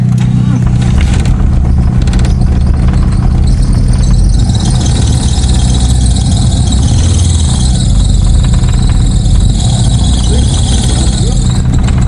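A 1992 Mitsubishi Galant GTi engine runs unevenly at close range, a loud continuous idle with a squealing whine and fluctuating rumble, with voices faintly in the background.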